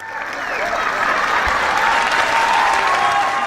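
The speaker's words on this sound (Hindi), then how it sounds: "एक स्टैंडिंग ओवेशन हो जाए।" Loud, sustained standing ovation from a large audience at a comedy stage show, a dense steady wash of clapping that swells slightly and holds throughout.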